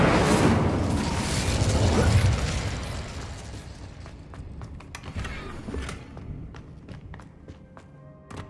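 Incendio fire spell cast in Hogwarts Legacy, a loud fiery whoosh and burst fading over several seconds, followed by scattered sharp combat thuds and clicks.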